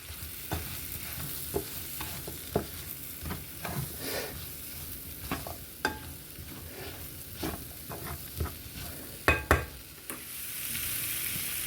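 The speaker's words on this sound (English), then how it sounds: "You're going to want to cook these mushrooms for about 6 minutes or so." Mushrooms seasoned with Italian seasoning fry in a pan, a soft steady sizzle under repeated scraping and clacking of a utensil as they are stirred, close and without talk.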